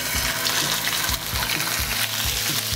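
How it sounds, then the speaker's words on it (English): Pork tenderloin sears in hot oil in a pan, giving a loud, close, continuous sizzle with a crackling hiss and faint low thumps underneath, without speech. "I have some hot oil in the pan right now, and we're just gonna take that tenderloin and lay that right into our pan."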